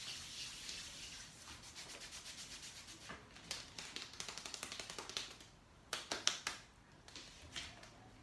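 Hands brushing and rubbing together as body percussion in a body music lesson, a soft steady swishing that builds into a run of quick light taps and louder brushed strokes toward the end, close and alone without talk.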